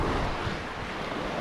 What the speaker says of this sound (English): Nice beach as always again on the Bahamas.